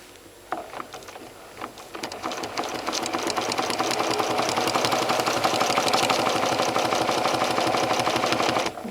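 A sewing machine stitches free-motion feather quilting, starting with a few slow stitches and then settling into a fast, even, continuous mechanical chatter close by, with no talking.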